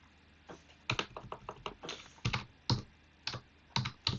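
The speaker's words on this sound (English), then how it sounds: "Let's type that in again." Keys clack on a computer keyboard in irregular bursts of quick taps with short pauses between, close and fairly crisp, with no one speaking.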